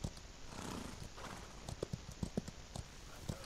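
Donkey hooves clopping in the Outlaws of the Old West video game, a series of close uneven knocks on the ground with a brief whinnying cry in between, over a faint background.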